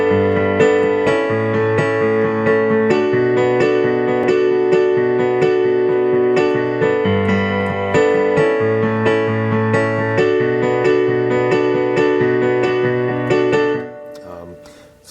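Piano playing a melody in a guitar-like style, with repeating octave notes over steady low chords in a looping rhythm. The phrase runs unbroken and close before fading out.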